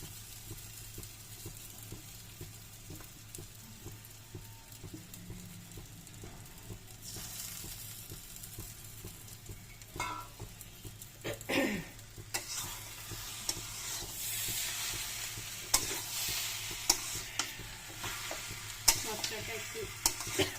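Bhetki fish bone chochori being stirred and fried in a pan, a steady close sizzle with scraping spoon strokes that grow louder and busier toward the end, no voices.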